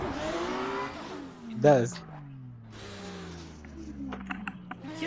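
Drift car engine revving and sliding in the Assetto Corsa game, with falling engine pitch sweeps, bursts of tire noise and revs from other cars nearby, under brief talk from players.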